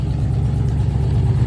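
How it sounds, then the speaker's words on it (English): A 1966 Jeep Gladiator with a 327 Vigilante V8, driving down the road with a loud, steady engine rumble and slight throttle fluctuations, heard up close with no talk. "We drove down the road."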